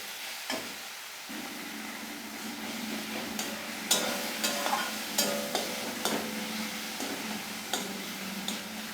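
Tomatoes soften in a pan over a low gas flame, giving a soft steady sizzle with light clicks and taps of stirring scattered throughout.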